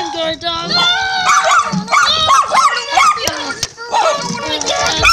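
A guard dog barks and yips in short repeated bursts, loud and close, mixed with excited shouting and children's voices throughout.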